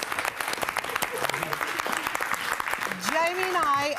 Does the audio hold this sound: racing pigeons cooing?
no